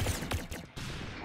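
Gunfire in a shooting video game, with a quick cluster of sharp shots over a busy game background, brief and close.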